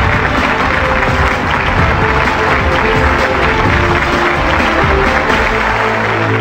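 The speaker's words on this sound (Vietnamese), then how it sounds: "Hãy dành một tràng pháo tay nồng nhiệt và chúc mừng cho Phương Thái" A studio audience at a Vietnamese television game show applauds a contestant, with dense, sustained clapping that stays loud and even throughout.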